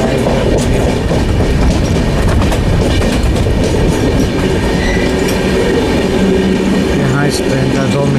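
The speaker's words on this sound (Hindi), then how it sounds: "अब हमारी ट्रेन दिल्ली ऑन सोन में अराइव हो चुकी है।" Passenger train 04064, a summer special running from New Delhi to Gaya, rolls into a Delhi station with a loud, continuous rumble of wheels and rhythmic clatter of carriages, close by and steady throughout.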